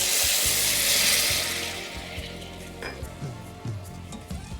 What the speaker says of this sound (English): Gently stir it. It has to cook until the vinegar is hanging on the onion.